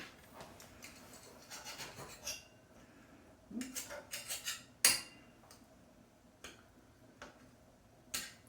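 Fork and knife on a plate during a corned beef meal, scattered clinks and scrapes of cutlery in irregular bursts with one sharper ring, quiet and close, with no talk.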